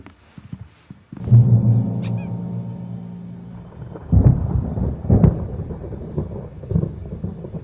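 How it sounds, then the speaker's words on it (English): Thunderstorm in the video game Alan Wake: deep rolling thunder rumbles build and crash in several loud surges over about seven seconds, with a brief high-pitched cry near the start. "There's a storm coming."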